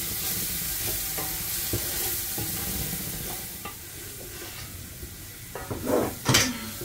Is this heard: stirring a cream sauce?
yes